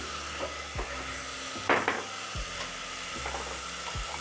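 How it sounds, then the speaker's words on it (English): Githeri with tomatoes and carrots sizzles in a pot while a utensil stirs it, scraping in slow, regular strokes under a constant frying hiss, with one sharper clatter midway and no voices. "tomatoes cook, I'm going to add carrots. Stir."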